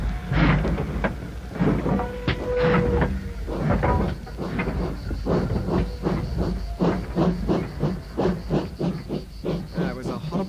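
A steam train at a station puffs and hisses in a steady, rhythmic chuffing that gradually quickens, loud and close, with bursts of steam throughout.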